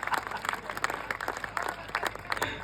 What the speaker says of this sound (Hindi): सारे लोग ताली बजाओ वरना डांस करके दिखाऊंगा